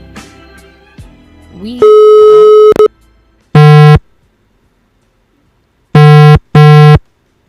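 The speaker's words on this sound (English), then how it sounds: "let's call Sophia" A telephone busy signal of repeated loud, steady tone bursts, preceded by a dialing beep and a brief tone chirp, heard alone and close.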